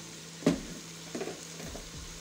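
Potatoes frying in a pan, with a soft steady sizzle and a couple of brief louder scrapes or stirs, close and alone without talk.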